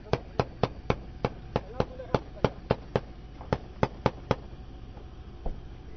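A rapid string of sharp gunshot cracks, about fifteen in irregular bursts, echoing over a low rumble with faint voices behind, in Mosul.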